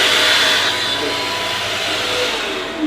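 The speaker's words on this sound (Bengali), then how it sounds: "আর এটা হচ্ছে হ্যান্ড ড্রায়ার" An electric hand dryer in a hotel bathroom in Odisha gives off a loud, steady, close-up whooshing roar that holds constant throughout.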